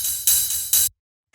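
A fat, slightly pitched-up ride cymbal sample from a techno track: three bright, washy hits that ring with long sizzle, then a short silence before another strike begins, loud and dry with no voice.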